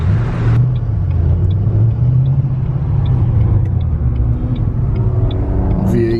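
An old BMW V8 car engine rumbles steadily at close range at a car meet, a deep continuous idle with faint higher sounds around it.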